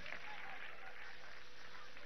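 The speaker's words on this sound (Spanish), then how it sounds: "Eso, vamos a darle un aplauso, ¿vale?" An audience at a political congress applauds a council of elders, a steady dense wash of clapping heard from a distance throughout, with a voice faintly under it.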